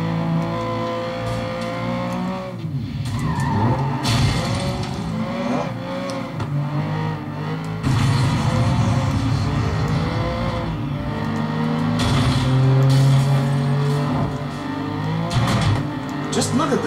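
A racing video game running on a 2009 Mac Mini plays a car engine that revs and shifts continuously, with repeated tire screeches and skids layered over the steady motor drone.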